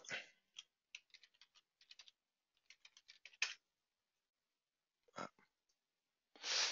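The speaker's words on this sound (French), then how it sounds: "Je tape mon mot de passe." Password typed on a computer keyboard, heard as short bursts of close, light key clicks in uneven clusters with brief pauses, no talking.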